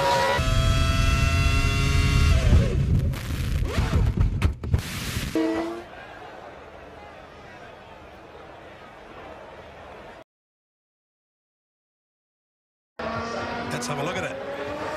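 Formula 1 racing crash in which one car is caught out under braking and rolls: loud engine roar, tire noise and a commentator's voice up front, then a quieter rumbling stretch, a gap of silence and a brief return of engine noise.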